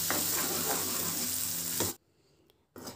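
Garlic chutney sizzles and bubbles loudly in a pan after water is poured in, a continuous close hiss that suddenly drops away near the end and then returns briefly.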